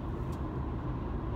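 Steady broadband rumble of a car travelling on a busy highway with traffic, heard continuously from inside with road and tyre noise and no speech.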